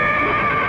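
A horse neighs in a brief, loud whinny, close by, heard on its own.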